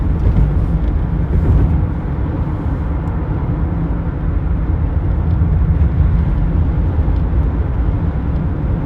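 Steady low road rumble heard from inside a moving car, a constant droning engine and tire noise that fills the cabin without breaks and with no talk.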